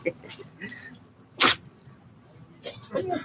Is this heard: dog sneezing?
yes